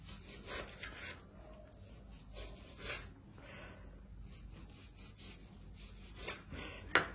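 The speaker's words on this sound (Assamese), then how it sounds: "ছেইম এনেকৈ আমি বিলাহীখিনিও কাটি ল'ম একদম পাতলা পাতলাকৈ" A knife thinly slices tomatoes on a cutting board, making faint, repeated scraping strokes against the board at an uneven pace, with a sharper tap near the end.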